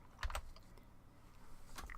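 Typing on a Windows computer keyboard, with two short clusters of close key clicks at the start and near the end separated by a quiet gap, and no speech.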